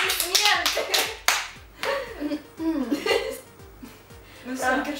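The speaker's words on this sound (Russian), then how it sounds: "Браво! Аплодисменты!" A few hands clapping in applause, close and uneven, with someone talking and some laughter mixed in.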